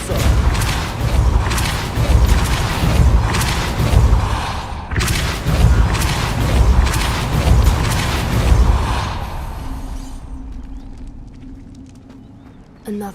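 Repulsor spells cast in Hogwarts Legacy: a run of loud, forceful whooshing blasts and booming impacts, densely repeated for several seconds before fading into a quieter, hollow tail.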